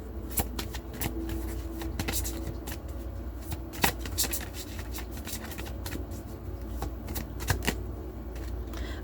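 Tarot cards are shuffled in a steady run of soft riffling and slapping, close and fairly quiet, with louder snaps at intervals over a low background hum.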